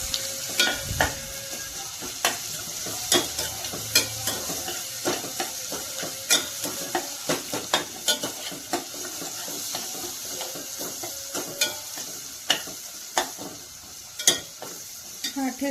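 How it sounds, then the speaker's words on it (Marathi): Green chili thecha frying in a pan over low heat, a soft continuous sizzle broken by regular scraping taps of a spatula stirring against the pan, close and fairly quiet. "ठेचा फ्राय करून घ्यायचा आपल्याला. हा थोडासा मंद आचेवर."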